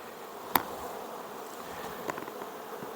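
Honeybees at hives, with the colonies moved for black locust and acacia bloom, make a faint continuous buzz with a sharp click and a few light knocks.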